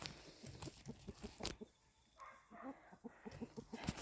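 Chickens cluck softly in irregular bursts around an automatic waterer amid outdoor background noise, a few sharper clicks and rustles scattered throughout.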